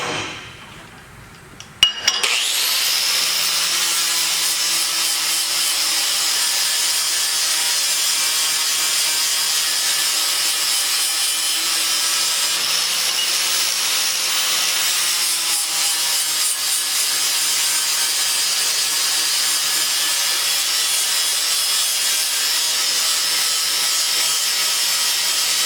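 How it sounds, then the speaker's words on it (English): A power sander or grinder works down a steel weld test plate, starting abruptly after a brief clatter and then holding a loud, steady abrasive whine throughout. "So here, I just sanded down, stripped down through the center there."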